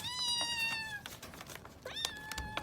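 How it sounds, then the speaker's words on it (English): Several high, thin kitten meows overlap, some stretched and wavering, close by with small scuffling noises between cries. "Kittens."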